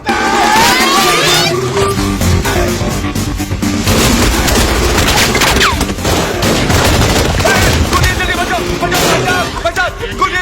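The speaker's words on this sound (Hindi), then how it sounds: "गोलियां कौन चला रहा है रे?" Rapid gunfire rattles through a comedy film scene, loud repeated bursts and booms with music and shouting voices mixed throughout.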